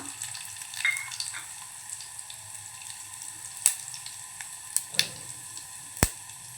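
Cumin and mustard seeds sizzling in hot oil with curry leaves in a pan, a faint continuous crackle with a few sharp pops and spatters standing out.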